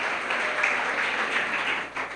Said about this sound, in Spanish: Un fuerte aplauso para la obediencia de esta casa